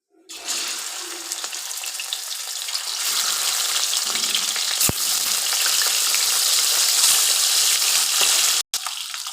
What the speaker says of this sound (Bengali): তেল গরম হয়ে গেছে মাছ দিয়ে দেবো